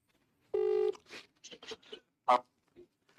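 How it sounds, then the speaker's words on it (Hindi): A sequence of telephone keypad tones beeps out a number, followed by a few short, uneven clicks and tones. "तो भैया चलो फोन मिलाते हैं ना"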